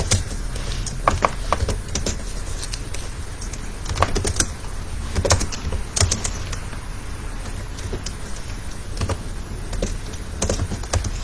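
Fingers tapping on a computer keyboard while a JavaScript program is written, steady irregular clicks and occasional sharper key strikes, close and fairly loud with no talk.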